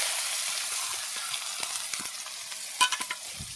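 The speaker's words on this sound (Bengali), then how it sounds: "পেঁয়াজটাকে লাল লাল করে ভেজে নেব।" Onions frying in a pan with bay leaf and black cumin, a steady broadband sizzle running throughout with a few small clinks of a stirring utensil near the end.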